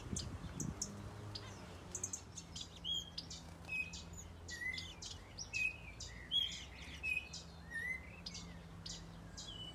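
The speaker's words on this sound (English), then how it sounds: "a pair of large zebra finches" Zebra finches in an aviary chirp with quick, repeated high tweets scattered over a faint low hum, soft and somewhat distant, with no talking.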